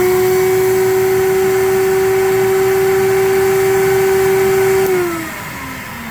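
A loud, steady vacuum cleaner motor drones close by with a constant whine while cleaning a vinyl record, then winds down near the end as its pitch drops.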